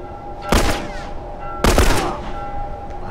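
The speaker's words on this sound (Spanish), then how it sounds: "Dos disparos, cuidado." Two sharp gunshots in The Last of Us, spaced about a second apart, each a loud crack with a short ringing tail over a steady low game ambience.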